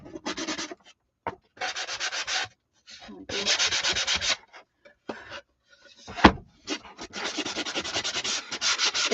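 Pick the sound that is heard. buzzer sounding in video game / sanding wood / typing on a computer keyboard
sanding wood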